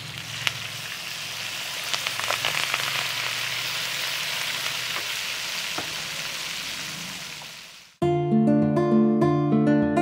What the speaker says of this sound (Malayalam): ഇനിയിപ്പം മീൻ വറക്കാൻ പോവാണ്.